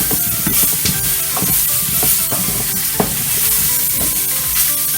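A spoon stirs and scrapes a sausage mixture in a hot pan as it warms, a continuous close sizzle broken by repeated clattering knocks and shuffles of the food.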